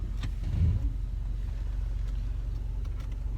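A 2013 Mercedes C250 drives in sport mode, its engine giving a low, steady road rumble heard from inside the cabin, with a brief thump near the start.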